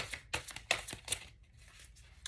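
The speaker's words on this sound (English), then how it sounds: "These are so hard to shuffle." A deck of tarot cards is shuffled by hand, giving a run of crisp riffling and slapping card noises in irregular bursts, close and soft, then tapering off.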